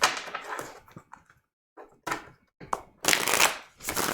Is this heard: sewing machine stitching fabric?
no